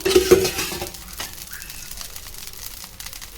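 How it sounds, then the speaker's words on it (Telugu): Oil drizzled around a jowar dosa on a hot pan gives a steady soft sizzle and crackle. A brief louder burst opens it, then it settles into a faint, even hiss, close by with no talking. "చుట్టూ ఆయిల్ వేసుకుందాం."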